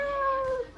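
A person imitates a cat's meow with the voice: one drawn-out, tonal mew close up, gliding slightly downward and fading at the end.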